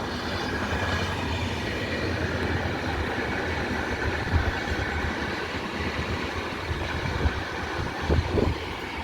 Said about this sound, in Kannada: ಮನೆ ಪಕ್ಕದಲ್ಲೇ ಟ್ರೈನ್ ಹೋಗುತ್ತೆ